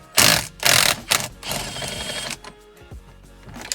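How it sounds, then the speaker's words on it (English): Impact wrench undoing a 21mm steering wheel bolt on a Jaguar XFR, several loud close bursts of rapid hammering and ratcheting, followed by a longer rattling run and faint mechanical clicks as it eases off. "undo our 21mm bolt right there with our impact"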